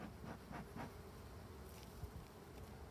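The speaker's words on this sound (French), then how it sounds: "Petite visite d'une colonie d'abeilles" A colony of black bees, agitated at an opened hive, gives a steady close drone of buzzing wings that hangs on evenly throughout.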